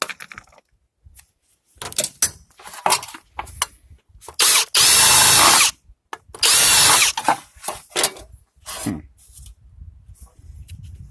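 A power drill with a resharpened bit whirs in two short, loud bursts while drilling holes in a peanut jar for a birdfeeder, with scattered clanks and handling noises between them.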